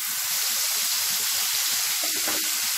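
A ground paste of onion, coriander, ginger and garlic sizzles in hot oil for an egg curry, a dense continuous frying hiss with a brief stir near the end.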